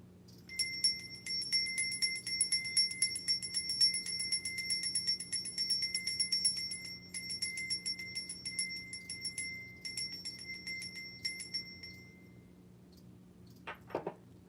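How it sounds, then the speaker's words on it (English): A small hand bell rung to clear the energy, its bright ringing tone sustained and repeatedly struck for about twelve seconds in a quiet room, then fading out before a brief clatter. "I'm going to get my little bell to clear the energy."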